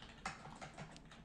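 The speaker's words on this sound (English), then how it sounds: "You can just type that in right there," Keys on a computer keyboard are typed in a short, quick burst of soft close clicks, with no talking.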